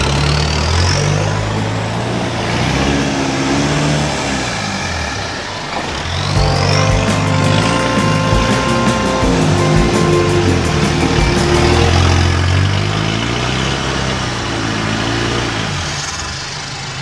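Vehicle on cheap tires climbing a muddy slope, its engine labouring and revving in steady loud surges with a brief dip partway, tires churning, no voices.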